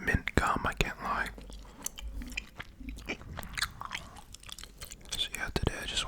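Close, intimate chewing of mint gum: moist smacks, clicks and soft squelches right at the mouth in an irregular rhythm, with faint breathy whispering mixed in.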